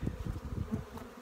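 Honey bees swarm around an open dry feeder on a calm, warm spring day, a dense close buzzing hum with wingbeat pulses rising and fading as individual bees pass, no voices.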